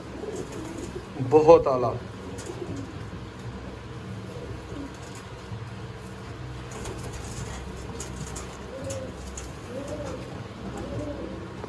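Golden Sialkoti dab pigeons kept for sale coo in soft, low, repeated calls close by, with a brief louder flutter near the start and someone talking over parts of the scene.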